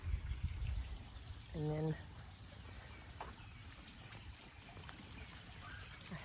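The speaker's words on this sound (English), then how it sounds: "Love the sound of water." Water trickling steadily in a garden pond, a soft continuous splashing beneath occasional birdsong and a brief spoken word.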